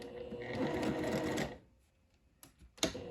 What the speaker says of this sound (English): So now I'm going to sew around that box that I've marked.